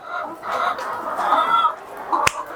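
Chickens on a poultry farm cluck in a busy, close chorus of overlapping calls, with a sharp knock or click near the end.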